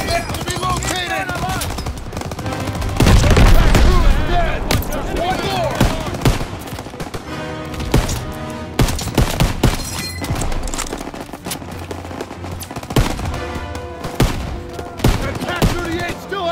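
Sustained battlefield gunfire in Call of Duty: WWII during Operation Cobra: rapid machine-gun bursts, rifle shots and heavy booms from tanks, continuous and loud, with soldiers shouting in between.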